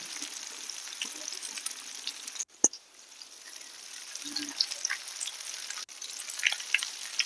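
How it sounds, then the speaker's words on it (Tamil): Fish fillets fry in a pan over a medium flame with a steady, close sizzle, broken by a sharp clatter near the middle and a brief pause later. "இதை நல்லா மீடியம் ஃப்ளேமில் வச்சு அப்படியே பொறுமையாக நம்ம ஃப்ரை பண்ண வேண்டியது தான்"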